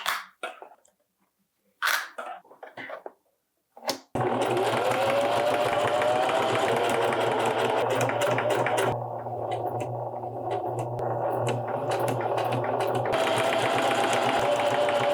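Sewing machine attaching bias binding to a coat pocket runs in a long, loud, continuous whir for about eleven seconds, easing slightly partway, after a few short bursts of handling noise at the start.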